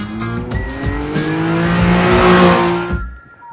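A car drifting through a slide, its engine revving loud and close while the tyres squeal in a rising, sustained screech that cuts off abruptly, leaving a brief quieter tail.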